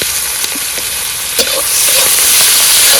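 Loud, steady sizzling of onions frying in a hot pan, a broad crackling hiss with an occasional clink of a spoon.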